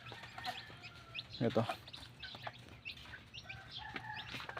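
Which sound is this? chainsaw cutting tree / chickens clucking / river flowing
chickens clucking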